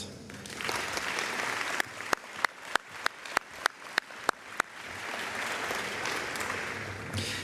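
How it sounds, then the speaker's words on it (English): An audience at a university homecoming luncheon applauds an award recipient, a dense wash of clapping that builds quickly and holds steady, with a series of sharp, evenly spaced bangs ringing out through the middle. "Would you please join me in a round of applause for this year's recipient, Major James R. Lisher II."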